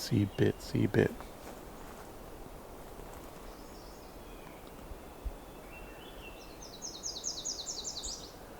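Outdoors on a hike, a Myrtle Warbler sings a short, high, rapid trill near the end, moderately faint, after a few heavy thumps at the start and a stretch of quiet background hiss.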